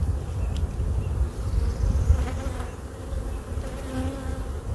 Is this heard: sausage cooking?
no